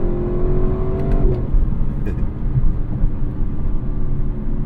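A Lexus LC 500 convertible drives along with a steady low engine drone and road rumble, a brief rising rev and tonal shift marking a smooth gear change early on.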